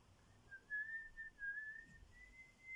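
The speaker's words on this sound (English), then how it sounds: "Sorry about the whistling." A faint, thin whistle with a slightly wavering pitch, carrying a short tune against quiet background noise.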